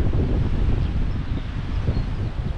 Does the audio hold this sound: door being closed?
no